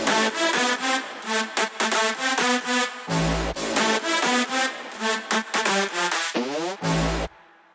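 Electronic dance track drop built in FL Studio with brass stabs layered over synths, dense rhythmic chords and a couple of deep bass hits, loud and continuous without vocals.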